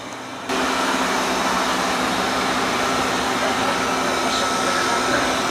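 An iRobot Roomba robot vacuum runs nearby with a steady, loud whirring hum and broadband suction noise that holds constant throughout, a person talking over it.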